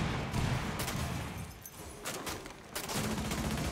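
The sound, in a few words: gunfire through a window in video game Rainbow Six Siege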